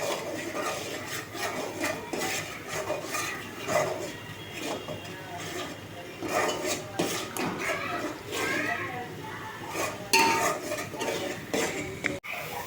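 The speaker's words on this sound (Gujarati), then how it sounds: "આમને હલાવતું રહેવાનું છે એમ ને, તો જ એનો ટેસ્ટ પકડશે." Marinating vegetables for Punjabi shaak being stirred in a pan, with scraping and clinking of the utensil on metal repeating steadily throughout while people talk over it.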